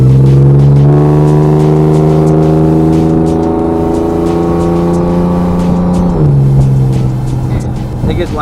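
A loud engine revs steadily upward in pitch for several seconds, then drops and settles, with the rumble continuing close by.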